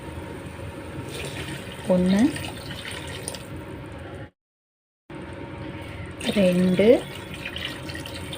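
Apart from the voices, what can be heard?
water poured into rice for biryani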